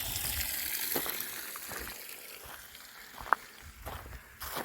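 Water trickles and gushes at a mountain water source by Tray Mountain Road on the Appalachian Trail, a steady flowing wash with scattered footsteps and one sharp knock nearby.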